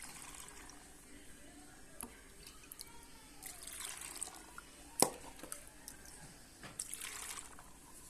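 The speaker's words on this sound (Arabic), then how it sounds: "راح نبلش نضيف المحلول الملحي فوق الجزر" Salt brine poured over carrots in a glass jar for pickling, a soft continuous liquid trickle and splash with a few small clinks, quiet and close.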